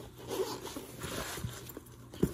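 A zipper on a Milwaukee M12 Fuel impact driver kit case is drawn open in short, quiet scrapes, close up, with faint rustling between pulls.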